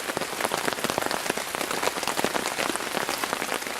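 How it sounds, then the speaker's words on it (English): Steady rain patters on a stretched tarp shelter at a bushcraft campsite, a dense, close, even drumming of countless drops with no voices. "I like the sound of the rain pattering on the tarp"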